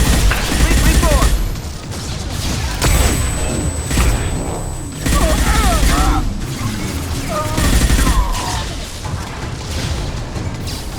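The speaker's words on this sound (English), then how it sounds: "Watch out, flashbang!" Flashbang grenade detonating during a Mass Effect firefight, sharp loud bangs and crashing bursts repeating among gunfire-like impacts, with character voices speaking between the blasts.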